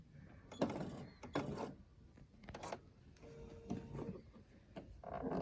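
A sewing machine during quilting ruler work, clicking and whirring in a few short mechanical bursts with quiet gaps as the needle cycles to pull the bobbin thread up.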